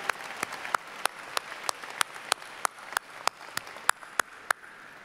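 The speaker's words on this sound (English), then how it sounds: "Let's give them a big round of applause for our Board of Trustees." A high school graduation audience applauds the board of trustees, with scattered, fairly distant clapping heard as a loose run of individual claps rather than dense applause.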